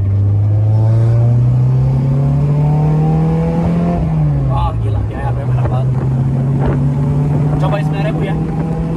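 A Honda S2000 with J's Racing parts drones loudly under way, its engine pitch climbing, dipping through a gear change, then rising again, with occupants talking over it.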